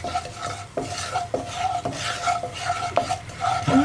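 Spice powders cook in a pan for a beans and carrot curry, with rhythmic spoon stirring strokes scraping against the pan over a gentle sizzle.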